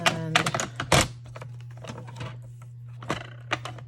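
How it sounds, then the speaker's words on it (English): Cardstock is sliced on a desk, trimming one inch off a 4 by 5 1/4 inch piece, with several sharp close cutting snaps and rustles in quick succession, then quieter pauses between. "I'm gonna cut 1 inch off"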